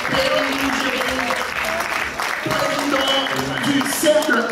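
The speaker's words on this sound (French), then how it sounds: "Applaudissez-les. Allez plus fort" A debate audience applauds as the panel guests, a deputy and a think-tank president, are introduced, dense sustained clapping with some crowd noise and a voice over it.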